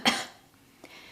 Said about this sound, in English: you might have symptoms like a cough